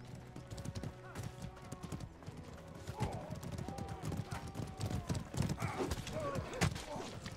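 Horse hooves in the medieval combat game Mordhau, a rapid clip-clop of galloping with whinnies and clashing combat noise mixed in, while someone talks over the action.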